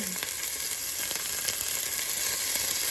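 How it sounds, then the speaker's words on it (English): Pieces of beef searing in hot avocado oil in a pot, a continuous hissing sizzle with faint crackles, steady and close, without any voices. "we're gonna sear off the beef"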